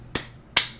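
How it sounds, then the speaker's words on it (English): Two quick, sharp slaps of hands being dusted off, close and crisp with a brief gap between them, otherwise quiet. "That's me dusting off my hands"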